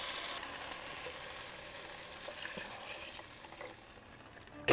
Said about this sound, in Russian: Пора бы добавить бульон.